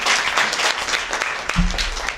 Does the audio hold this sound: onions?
no